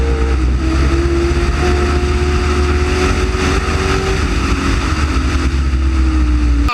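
Racing cars, a Porsche among them, charge through a turn on a circuit. Loud, close engine roar holds steady throughout, with engine pitch sliding as the cars pass and change speed.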